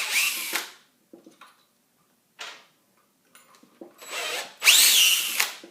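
Power drill backing screws out of a door lock plate, several short loud whirring bursts separated by pauses and small clicks, the last burst rising in pitch as a screw spins free.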